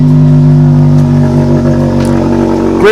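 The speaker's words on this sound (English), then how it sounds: "So taking my Mitsubishi Lancer GT out." Mitsubishi Lancer GT on a cold start, engine revving loudly and steadily near the microphone, holding a strong droning tone for a few seconds with a slight rise in pitch at the end.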